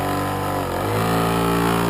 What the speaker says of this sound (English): There's vibration here. It's in the motor, it's not in the shaft.